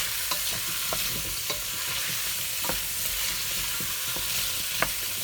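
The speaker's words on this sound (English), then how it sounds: "fry the potato from outside as well, same as the kafta" Potatoes and kafta fry together in a pan with a constant soft sizzle, broken now and then by gentle stirring taps and scrapes, moderately quiet with no voices.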